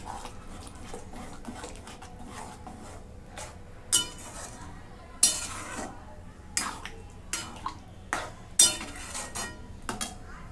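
A spoon scrapes and clinks against a metal pot in irregular strokes, some sharp knocks standing out over a quiet background.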